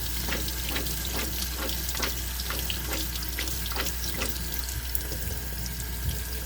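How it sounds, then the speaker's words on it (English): Tap water runs steadily into a strainer, rinsing recycling containers in a kitchen sink, with a continuous close splashing hiss and small clatters, and no talk. "And just rinse them until they are clear, until the water runs clear."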